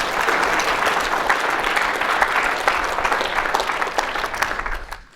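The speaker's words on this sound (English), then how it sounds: "give Mike a round of applause" A conference audience claps after a talk at ComponentsConf 2019, with dense, sustained applause that fades out at the end.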